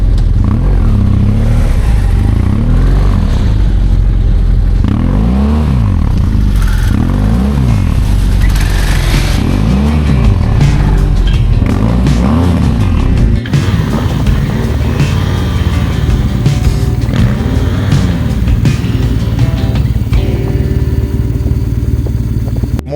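Off-road motorcycles ridden at a motorcycle season-closing event, with loud, continuous engine noise whose revs repeatedly rise and fall in pitch, close by, with no talking.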